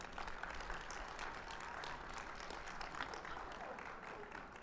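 Audience at a community fund gala breaking into steady applause, a dense wash of clapping at moderate distance that carries evenly through the whole moment.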